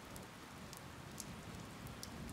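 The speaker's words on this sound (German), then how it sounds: "Andauernde Regenfälle sorgen für Überflutungen" Steady rain falls in the video game Die Gilde 3, a constant, soft hiss of drops hitting surfaces with occasional brighter drips, quiet and uninterrupted.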